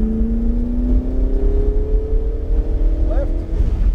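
A Ferrari 488 GTB accelerates hard on the track at Memphis International Raceway, its loud engine note climbing steadily in pitch over a constant rush of wind and road noise.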